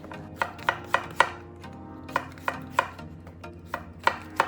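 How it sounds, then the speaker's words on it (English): Knife slicing zucchini thinly on a cutting board for a shrimp vegetable pancake: a series of sharp, close board taps in small bursts, irregular but steady, with no talking. "Slice the zucchini thinly."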